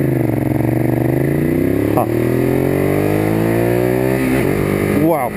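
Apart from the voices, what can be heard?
Ducati Monster 821 motorcycle engine revving and shifting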